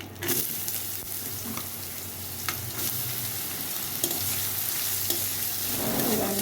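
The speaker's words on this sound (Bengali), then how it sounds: "এবার ডালটা ভাজা হয়ে গেছে এখন আমি দিয়ে দেবো লাউটা" Chopped bottle gourd goes into a pan of frying mung dal over high heat, giving a steady sizzle with scraping stir strokes and occasional clinks of the spatula, close and continuous.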